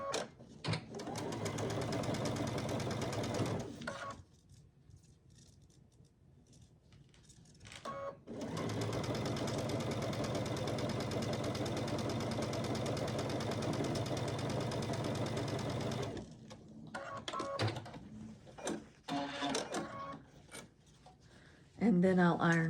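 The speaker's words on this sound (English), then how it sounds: "I would keep chain piecing them, and then I'll stitch this one on this side" A sewing machine chain-pieces pre-cut quilt blocks in two long, steady runs of rapid stitching, separated by a brief pause with quieter handling and talk, then fabric shuffling afterward.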